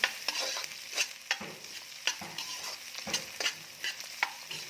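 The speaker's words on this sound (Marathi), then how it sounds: "मिरची छान फ्राय झाली की त्यामध्ये टाकायचा आहे कांदा" Onion frying with green chillies in a pan for a yellow potato bhaji, with a rhythmic series of spatula stirs and scrapes over a soft continuous sizzle, close and without talk.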